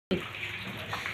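Rainwater pouring on a rooftop during the rainy season, a short, dense, steady rush of splashing water, close and continuous.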